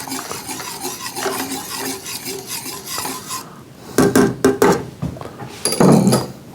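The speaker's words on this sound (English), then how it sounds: "I'll give that another stir" A spoon stirring a hot chocolate bourbon drink in a mug, soft scraping swirls followed by several sharp clinks of metal against ceramic, close and fairly loud.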